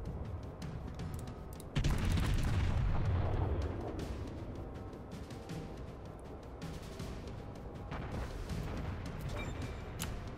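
Naval shells from the Japanese cruiser Aoba strike a battleship in World of Warships, with a loud, heavy blast and rumbling explosions early on, then continuing booming battle noise and distant shots.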